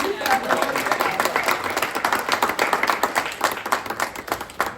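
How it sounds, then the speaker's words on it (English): Audience applause and clapping after a song at a musical theater workshop, a dense steady patter of many hands with a few voices mixed in, lasting the whole few seconds. "about another round of applause for them?"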